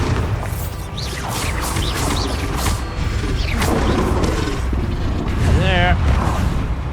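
Bombarda spell explosion in Hogwarts Legacy during combat, heavy rumbling blasts and mechanical clanks amid swooshing spell effects, loud and continuous, with a voice calling out over the din.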